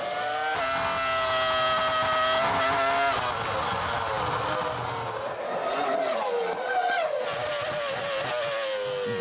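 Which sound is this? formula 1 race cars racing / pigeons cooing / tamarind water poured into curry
formula 1 race cars racing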